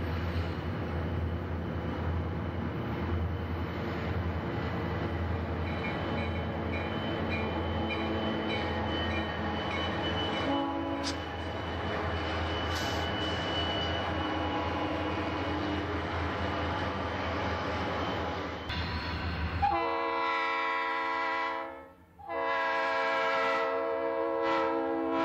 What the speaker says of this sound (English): We'll see a number of Conrail and D&H trains here.